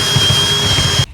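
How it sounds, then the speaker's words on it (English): Power drill running at steady high speed while widening a hole, a loud continuous whine that cuts off abruptly near the end. "I'm gonna drill that hole just a little bit bigger"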